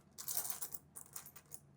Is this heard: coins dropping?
yes